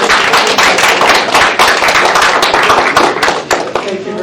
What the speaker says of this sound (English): how about a round of applause for